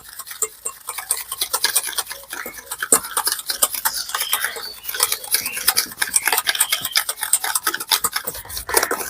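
Egg and sugar whisked together in a bowl make a quick, steady run of close, rhythmic clicking and tapping strokes that continues throughout.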